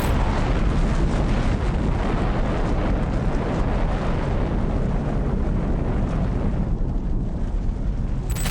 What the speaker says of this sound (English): This is a nuclear bomb.